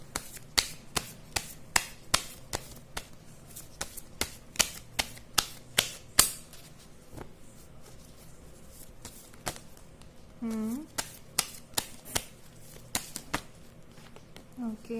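Tarot cards are shuffled and drawn in a series of sharp, evenly spaced slaps and snaps close by, with a short voiced murmur near the end.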